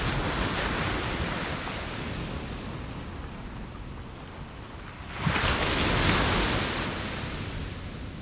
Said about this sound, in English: we'll listen to a couple more waves together